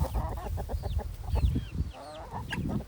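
Several chickens cluck softly and repeatedly nearby while pecking at corn, short murmuring calls rising and falling over light background noise.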